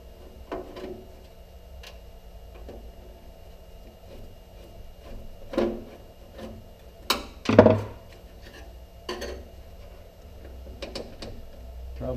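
Scattered clicks, ticks and small metallic knocks come from screws being taken out of a tanning bed power supply ballast, sparse and close with a couple of louder clunks.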